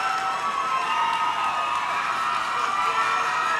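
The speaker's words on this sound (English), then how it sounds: "What a crowd." A large crowd at a women's fight league event cheers and shouts in a sustained roar, loud and continuous throughout, with no talk.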